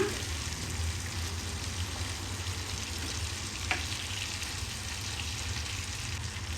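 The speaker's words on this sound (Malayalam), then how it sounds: "ഗ്യാസ് ഒന്ന് കുറച്ച് വെച്ചിട്ട് നമുക്ക് ഫിഷ് ഒന്ന് ഫ്രൈ ചെയ്തെടുക്കാം" Shark fish frying in a pan on a gas stove, a steady dense sizzle heard close up with a brief faint clink partway through and no voices.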